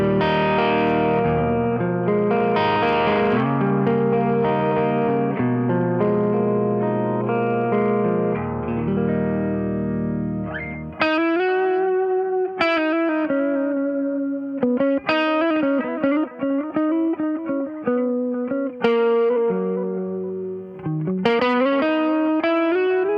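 An electric guitar through an amp with heavy distortion plus modulation and delay effects, sustained ringing chords first, then a run of loud, punchy single notes and short phrases repeating close up with no talking.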